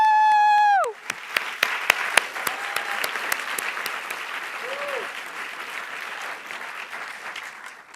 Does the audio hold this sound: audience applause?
yes